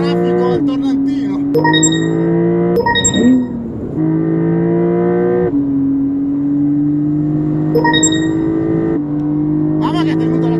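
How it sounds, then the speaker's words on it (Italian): A Porsche 911 Carrera 4 GTS laps a race track with a hairpin, its engine rising and falling through repeated gear changes from inside the cabin, loud and continuous with short high tones between shifts. "Ma adesso faremo un giro in pista non con la mia GTS, ma con la 4 di Porsche Italia."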